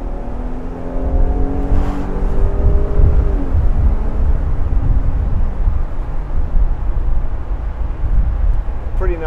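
A 2006 Mercedes-Benz SL350 with a 3.7 engine, roof down, accelerates hard with a rising engine note that climbs and blends into a loud, steady roar of engine and wind. Someone speaks briefly at the start.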